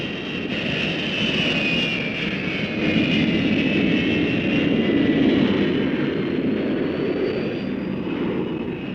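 Hawker Hunter jets of 111 Squadron RAF fly past as a steady, loud roar of jet engines with a high whine over it, sustained and even throughout, with no voices.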